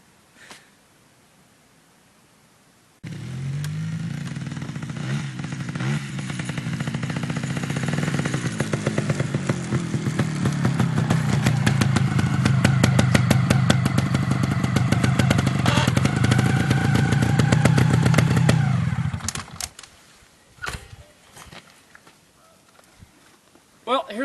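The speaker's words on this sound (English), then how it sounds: "Well, here's my summer hobby. It's called a trials bike." Trials bike motorcycle: after a quiet start the engine bursts in loud and close, revving and rising with a rapid popping exhaust for about sixteen seconds, then cuts off, leaving faint sounds.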